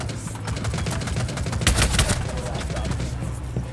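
Rapid gunfire tearing through walls in a Rainbow Six Siege match, a dense stream of sharp shots and cracks running throughout, with team chatter in the background.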